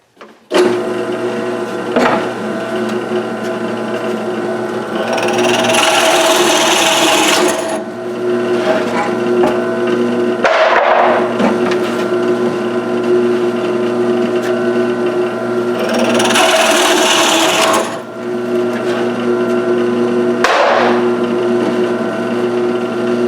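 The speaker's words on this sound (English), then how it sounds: "So let's get to do some drilling." A power drill bores into wood for a tapered Conibear trap box set up in a jig, two loud sustained whirring runs under a steady machine hum, with brief knocks between passes.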